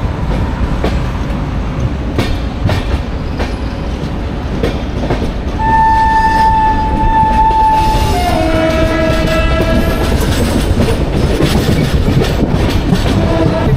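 The Dhauli SF Express runs on after leaving Cuttack Junction with a loud, continuous rumble and rail clatter. Partway through, a long, steady horn sounds, then changes pitch and fades under the running noise.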